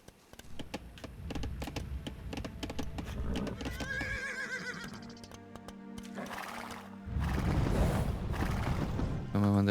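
Horses in the Age of Empires II real-time strategy game whinny and neigh repeatedly over rapid clip-clop of hooves and clicking unit sounds, a busy layered mix that grows louder toward the end.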